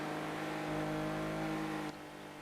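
A Porsche 993 race car engine in the Need for Speed Porsche Unleashed racing game on the Monte Carlo track, a steady loud droning whine that holds its pitch and then drops abruptly near the end as the revs fall.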